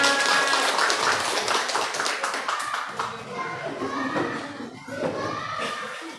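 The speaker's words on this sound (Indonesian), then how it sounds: "Tepuk tangan buat kita semua" A group claps together as a warm-up at a teacher training session on positive school culture, with children's voices and chatter mixed among the steady, fairly close patter of hands.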